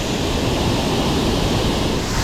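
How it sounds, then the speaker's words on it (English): Water rushing over a river spillway, a loud, steady roar of broadband noise that holds unbroken throughout, close to the listener. "There is the spillway. And she is actually ripping a good bit."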